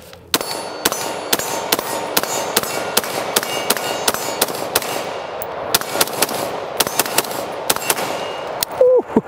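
An AR-15 rifle fires 6.5 Grendel rounds in a long rapid string of sharp, loud reports with ringing metallic clangs, shots coming roughly twice a second.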